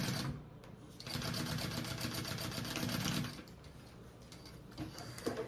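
A domestic sewing machine fitted with a walking foot stitches a waist bag, a steady, close mechanical whir with rapid ticking that eases slightly partway through and runs on alone.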